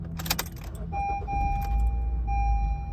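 A 2014 Honda Civic FB, S trim with push-button start, is started. Brief clicks and jingling come first, then steady electronic chime tones and a low engine rumble building close by.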